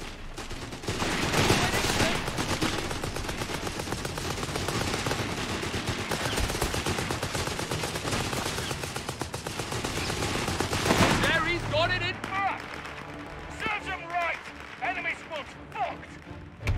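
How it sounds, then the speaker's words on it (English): Sustained machine gun fire in the video game Company of Heroes 3 hammers steadily for about eleven seconds, loud and dense, then gives way to scattered distant shots under shouted voices. "Our machine guns should keep them pinned down!"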